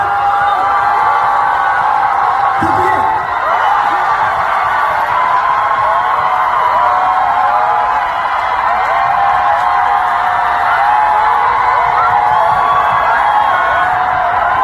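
A concert audience at a singer's show in Daegu claps and cheers continuously, with whoops and shouts rising over steady applause and a brief spoken word near the start.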